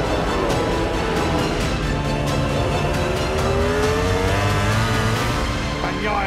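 MotoGP motorcycles launching at full throttle from the race start at Jerez for the Spanish Grand Prix, a dense, continuous roar of many engines screaming together with rising and shifting pitches, loud and close throughout.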